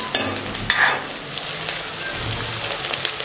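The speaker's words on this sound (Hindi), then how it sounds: "अभी प्याज हल्का सा ब्राउन हो जाएगा" Onions frying in a pan until lightly browned, giving a steady close hiss of sizzling oil broken by a few sharp stirring scrapes near the start, with no one talking.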